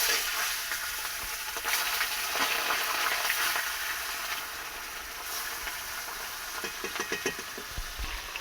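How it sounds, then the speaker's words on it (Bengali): Turmeric-coated rohu fish pieces frying in oil in a pan, a constant close sizzle with occasional clicks and spatters, louder at first and settling slightly later. "মাছটা ভালো করে হলুদ মাখানো হয়ে গেছে, এবার আমি ভালো করে ভেজে নেব।"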